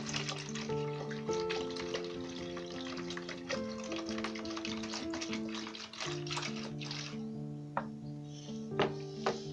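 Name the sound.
pouring water into cleaning solution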